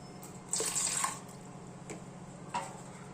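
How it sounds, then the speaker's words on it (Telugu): Normal-temperature tap water pours briefly into a bowl of warm water being readied for pizza yeast, a short splashing gush with a couple of faint drips after, no talking. "Normal water పోద్దాం."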